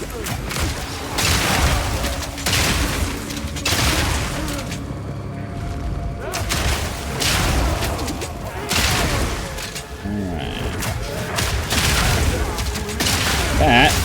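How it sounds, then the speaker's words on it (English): Repeated oil grenade blasts and booming gunfire from a Path of Exile 2 rocket-launcher Mercenary fight in a tower map, dense and continuous, with bursts of impacts layered over a steady low rumble. "Start using the oil grenade on these guys."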